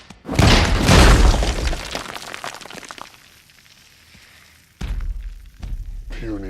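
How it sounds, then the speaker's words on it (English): Hulk smashing things in Marvel's Avengers film, a loud crash and shatter of breaking debris that fades, then further heavy thuds follow. "There's just smashing. Lots and lots of smashing."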